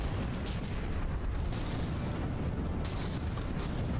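Dense, continuous barrage of booms and bursts from CRAM shells detonating against the exterior side shields of super battleships in a From the Depths naval battle, loud and overlapping throughout without pause.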